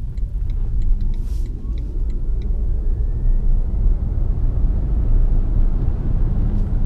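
A 2018 BMW i3 S electric car accelerates, a deep steady road rumble with a faint rising whine from the motor, heard from inside the cabin; a few faint clicks sound early on.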